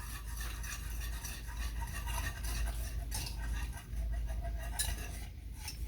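Two beaten eggs are stirred into cake batter for an almond custard cake, a utensil scraping and clinking steadily against the bowl with soft irregular taps, close but fairly quiet, with no voices.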